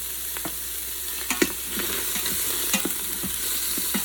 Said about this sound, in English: And that's gonna get sauteed for a couple of minutes or until the onions are translucent.